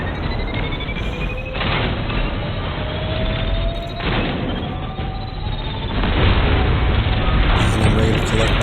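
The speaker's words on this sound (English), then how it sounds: "Threw the grenade on the wrong side, but it's fine. It still tracks to him." A grenade blast in the game Destiny booms heavily amid layered combat effects, with repeated deep bursts and rising electronic whines over a dense, loud background.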